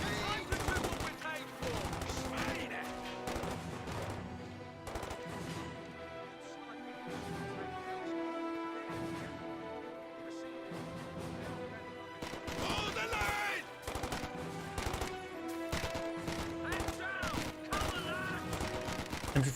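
MG42 machine gun in a Company of Heroes 2 battle, repeated rattling bursts mixed with other battlefield gunfire, sitting under game music and sound effects, louder toward the end.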